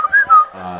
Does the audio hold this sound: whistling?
yes